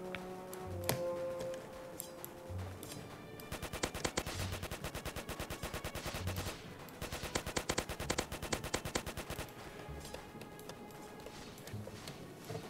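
Rapid gunfire in a Roblox zombie game, a continuous stream of quick repeated shots over a dense game soundtrack, fairly steady throughout.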